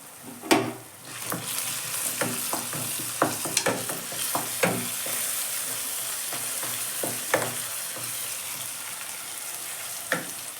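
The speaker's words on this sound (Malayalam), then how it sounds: "നമുക്കത് ഇളക്കി കൊടുക്കാം" Chili powder and sunflower oil mixture stirred in a pan for beef macaroni, a spoon scraping in a steady run of clinks and scrapes over a constant soft sizzle, close and moderately loud with no talking.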